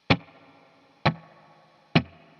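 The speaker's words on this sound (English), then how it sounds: "just slapping on the strings basically, or dropping your hand. And then with the reverb," Three sharp percussive slaps on electric guitar strings with a hand, each drenched in reverb and decaying quickly, spaced about a second apart like a snare backbeat, with nothing else playing.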